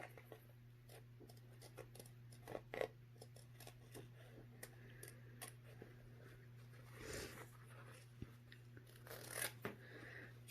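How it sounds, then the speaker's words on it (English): Scissors snipping out a paper image for a mixed-media piece, a series of faint, irregular close cuts and crisp paper rustles over a low steady hum. "So I'm just going to come through here and cut him out the best that I can."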